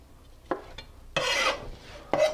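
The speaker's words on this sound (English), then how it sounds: "just chop yours up into little 1-inch pieces and put them in a bowl" Knife cutting asparagus into short pieces on a board, a few separate scraping chops with short gaps, one longer rasping stroke in the middle, close and fairly quiet.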